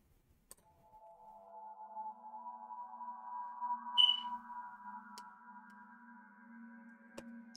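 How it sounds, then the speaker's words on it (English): An underwater cave ambience pad from the Expand 2 synth plugin in FL Studio, a faint, sustained hollow drone with a soft high ping midway and occasional quiet clicks, alone without talk. "these are just little ambience kind of pads to add to the beat. It gives it that underwater kind of feel"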